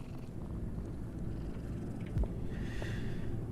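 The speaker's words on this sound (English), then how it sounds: "We're going to pet the cat for the trophy." A cat in the video game Mortal Shell purrs as it is petted, a soft continuous low rumbling purr, steady and close with no talk.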